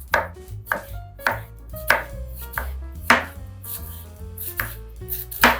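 A knife chops cabbage on a board in a steady series of about a dozen crisp, sharp cuts, close and fairly loud, with no talking over them.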